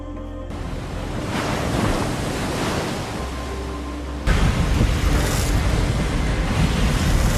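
Ocean surf on Normandy beach in a war film set on D-Day, 6 June 1944: a continuous broad roar of breaking waves with wind, swelling noticeably louder about halfway through.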